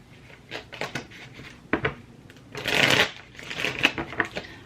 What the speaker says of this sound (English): I'm going to pull out some tarot cards.